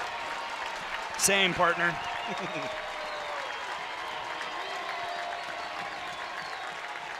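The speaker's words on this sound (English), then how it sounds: "The crowd to their feet here at the Rhoads house." Home crowd at the Rhoads house rises with applause and cheers during an Alabama vs Auburn softball game; a brief loud burst settles into a steady murmur beneath a play-by-play voice.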